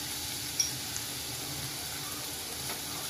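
Ginger-garlic paste sautéing in a pan with tomato for paneer bhurji gives a soft, steady sizzle and light stirring, faint and continuous with a couple of small ticks and no voices.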